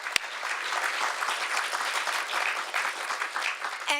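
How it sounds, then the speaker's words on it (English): A conference audience gives a round of applause, a dense, even patter of many hands clapping throughout, fairly loud and close, with no speech over it. "Can I just get a round of applause for the amazing work that Rhonda Bryant has done?"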